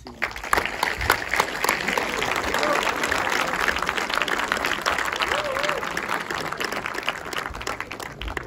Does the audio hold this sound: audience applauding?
yes